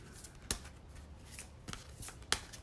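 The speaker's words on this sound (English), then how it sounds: "give these ones a quick shuffle" A small deck of tarot cards is shuffled by hand, giving a faint, soft papery rustle broken by a few sharp snaps and riffles in a quiet room.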